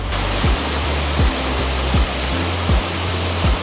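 Water pours constantly at Lovers Valley Waterfall in Kaohsiung, a loud, dense, unbroken roar, with faint low thumps recurring about every three-quarter second beneath it and no voices.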